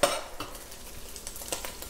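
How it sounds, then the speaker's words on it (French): Minced meat and sausages sizzle and brown in a saucepan with the liquid cooked off, a steady close crackle broken by a few scraping stirs of a utensil against the pan, with no talking. "C'est juste la viande qui est en train de cuire, de griller."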